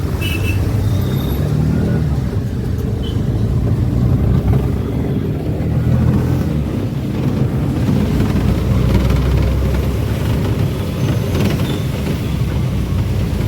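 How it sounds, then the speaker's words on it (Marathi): Heavy rain pouring down on a waterlogged town street, a steady loud roar that never lets up, with passing vehicle noise mixed into the wash. "कसा चालू आहे बघा पाऊस"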